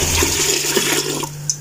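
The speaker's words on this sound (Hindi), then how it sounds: "तो बाकी ये जो है पानी इसके अंदर" Water is poured from a container into a cooking pot for masala rice, giving a steady, close rushing splash that continues throughout.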